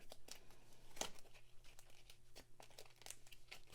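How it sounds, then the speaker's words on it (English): A discard pile of cards from The 7th Continent board game is shuffled by hand, giving a close, quiet run of rapid papery flicks and riffles, with one sharper snap partway through. "Okay, so we're going to shuffle this discard pile up."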